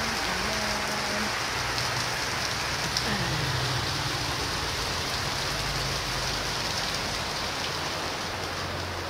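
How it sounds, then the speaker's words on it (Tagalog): Heavy rain pours steadily and close by, a dense continuous hiss of drops hitting surfaces with no breaks, loud throughout. "Ang lakas ng ulan."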